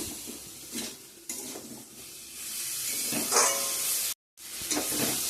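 Vegetables fry with spices in a pan, a steady sizzle broken by repeated scraping and stirring strokes of a utensil against the metal, close and fairly quiet, with no talking.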